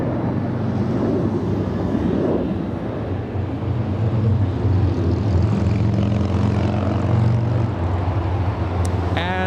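A Delta jet, flight 966 bound for Nashville, takes off at LAX with a loud, steady engine roar that holds throughout, a broad rumble under rising turbine whine, with wind buffeting the microphone.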